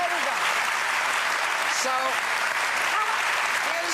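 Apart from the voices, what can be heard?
studio audience clapping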